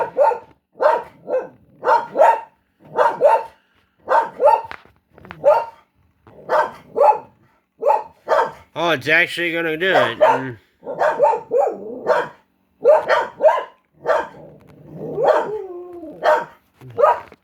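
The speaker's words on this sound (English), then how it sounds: "dogs are barking at birds." A dog barks repeatedly in a steady rapid series at birds outside the windows, loud and close, with a person speaking briefly in the middle of the barking.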